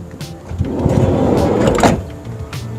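The worn front door of an inexpensive used car makes an unpleasant rattling and scraping noise as it swings, a close, sustained clatter for over a second, then a final knock.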